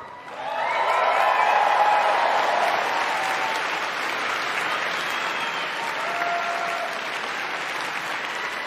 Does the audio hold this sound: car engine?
no